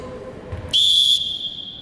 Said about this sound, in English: So once you blow the whistle